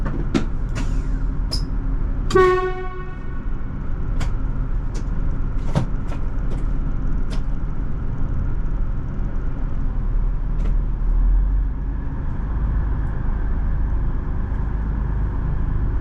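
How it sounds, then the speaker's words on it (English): Train rolling out of a carriage maintenance depot in West Melbourne, a steady low rumble with a series of sharp metallic clanks and a brief ringing squeal early on. "The train is then moved out of the maintenance depot to another part of the yard"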